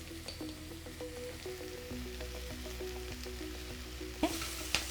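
Green mango pieces and jackfruit seeds stir-frying with salt in a pan for a Kerala dish, a close, steady sizzle with soft scraping stirs and a couple of louder clatters near the end.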